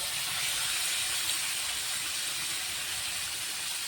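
Chicken meat sizzling after being dropped into hot oil, a steady, loud, close hiss that continues evenly without a break.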